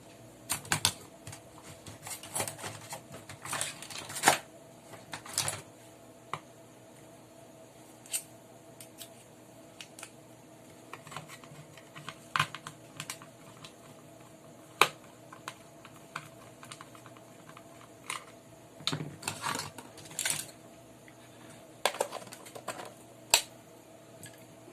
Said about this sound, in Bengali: সেই স্ক্রুগুলোকে আমাকে খুলতে হবে। তার জন্য আমি একটা স্ক্রু ড্রাইভার নিয়ে নেব